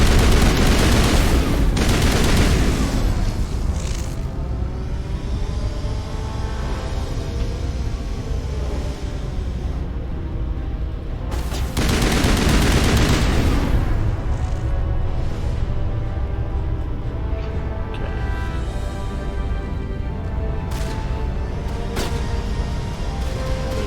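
Geth turrets fire in Mass Effect, a dense stream of gunfire and heavy bursts running throughout, with louder volleys early and again near the middle.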